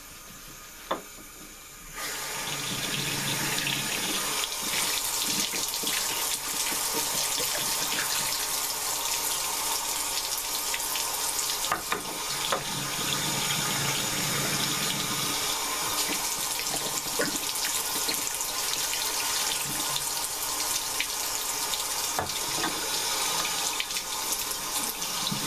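A tap runs continuously into a sink for a long stretch while soap is rinsed out, a steady close hiss and splash that starts abruptly after a short quiet moment, with no talking.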